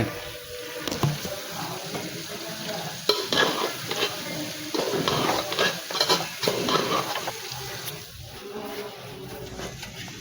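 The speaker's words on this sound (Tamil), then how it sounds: "போட்டு நல்லா கிண்டி விட்ருங்க." Steady scraping and stirring of spices in a frying pan for Chettinad chicken gravy over a constant sizzle, with uneven bursts of clatter throughout; no one speaks.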